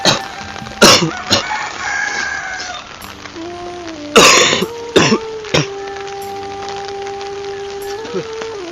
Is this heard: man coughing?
yes